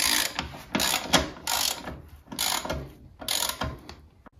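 Ratchet spanner undoing bolts on the battery tray of a 1968 Wheel Horse Raider 9 garden tractor, rapid close clicking bursts repeating in a steady rhythm with short pauses between strokes.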